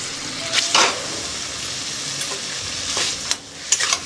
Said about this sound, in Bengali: এর মধ্যে দিয়ে দেব জল ঝরিয়ে রাখা কচুর শাক।